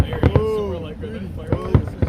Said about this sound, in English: I know they do fireworks.